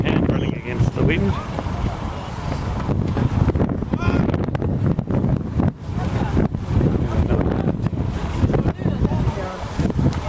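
Strong wind buffets the microphone on an outdoor football pitch during a youth match, a steady loud roar throughout, with faint voices mixed in.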